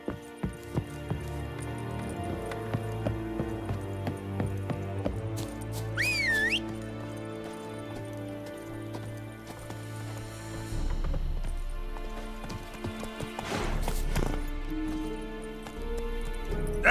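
Geralt's horse Roach galloping in The Witcher 3: Wild Hunt, rhythmic hoofbeats drumming steadily over a low music bed, with a sharp whistle and brief neigh partway through and heavier rumbling later.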